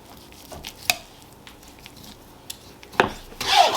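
A knife scraping fat off a raw tri-tip beef roast: quiet rubbing, rasping strokes with a few sharper scrapes, close up and louder toward the end, with no talking.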